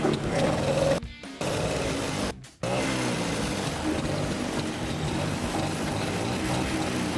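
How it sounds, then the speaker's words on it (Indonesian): A rare Vespa scooter engine runs steadily with a buzzing, rattly idle, briefly cutting out twice near the start before settling into a continuous close running drone. "kita dengarkan suara mesinnya"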